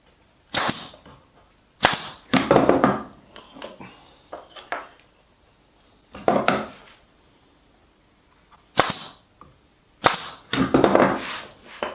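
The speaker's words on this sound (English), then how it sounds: "Now we're just going to put them together with the pin gun." A pneumatic pin gun drives pins to join the pieces of a wooden jewelry box made from old redwood, with sharp clacks in clusters and pauses between them, loud and close in a quiet workshop.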